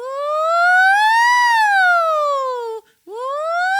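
A singer's voice does a siren warm-up, a smooth, loud vocal glide rising and then falling in pitch, breaking off briefly before starting another upward slide; the voice imitates a siren.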